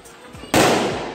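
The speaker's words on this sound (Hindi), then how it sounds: "पटाखे फोड़ने के लिए" A Diwali firecracker goes off with a loud, sudden burst after faint background voices, followed by a sustained crackling roar.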